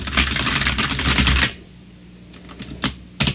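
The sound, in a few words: clacky computer keyboard being typed on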